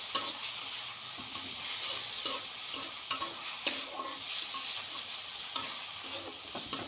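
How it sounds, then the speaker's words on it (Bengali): A ground spice paste is stir-fried with fried onions in a pan, giving a soft continuous sizzle broken by repeated sharp scrapes and knocks of the spatula, close and moderately quiet, with no talking. "এবার এই মশলাটাকে আমি একটু কষাবো।"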